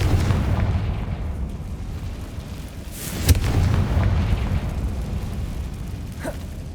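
A Confringo spell explosion from the video game Hogwarts Legacy gives a sharp burst of a blast over a continuous low rumble of game sound, followed by a smaller pop near the end.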